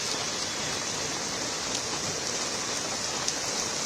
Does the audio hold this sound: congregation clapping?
no